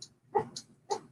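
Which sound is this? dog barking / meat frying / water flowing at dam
dog barking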